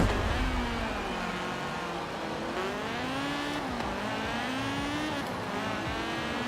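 A 2004 Honda Civic with front-wheel drive in Forza Horizon 4 revs its engine, the pitch rising and dipping with gear changes and throttle, loud and continuous without speech.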